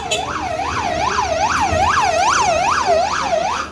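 A wailing siren from an ambulance-like vehicle in Jerusalem rises and falls in quick, regular sweeps, loud and close, over a low rumble of traffic.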